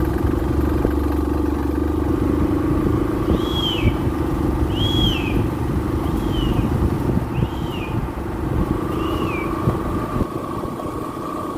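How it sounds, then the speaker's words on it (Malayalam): A car comes along a narrow forest road in Mamalakandam with a low, steady engine drone growing under the open-air background. Birds give several short, rising chirps as it approaches. "ഒരു കാർ വരുന്നുണ്ട്."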